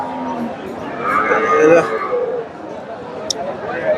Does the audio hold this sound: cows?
yes